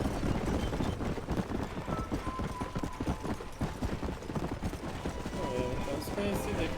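Horse hooves clip-clop in a steady, fast rhythm as a rider travels in the PC version of Red Dead Redemption, with continuous game ambience underneath.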